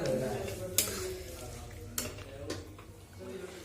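Curry cooking in a pan on a home stove, with a steady low sizzle and a few sharp metallic clinks of a utensil against the pan, close and fairly quiet.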